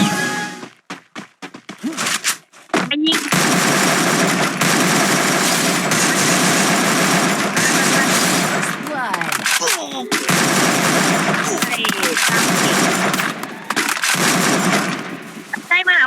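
Loud, dense gunfire in the mobile shooter Free Fire during a 4v4 ranked match, rapid automatic bursts and repeated shots nearly continuous across the stretch, with brief gaps and a voice talking at times.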